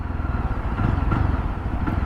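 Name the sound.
Yezdi Roadster motorcycle engine while riding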